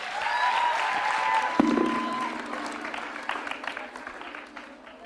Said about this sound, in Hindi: पूर्णिमा यूनिवर्सिटी, तालियां जोरों से बजाइए उनके लिए आप।